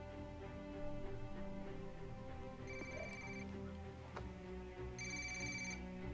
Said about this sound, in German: Sollten Sie nicht an Ihr Telefon gehen